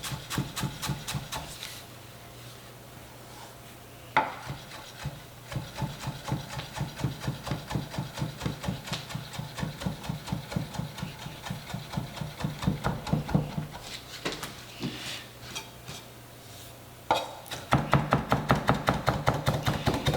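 A knife chops food on a cutting board in quick, steady knocks that run the whole time, with a few louder thuds and a faster burst near the end.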